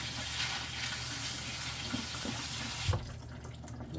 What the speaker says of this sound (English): A little cold water, turn the sprayer on.